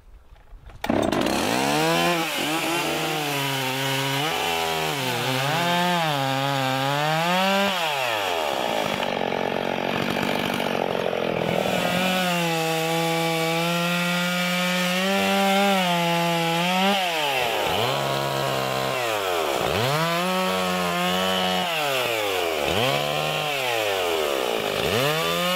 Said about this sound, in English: We need a chainsaw.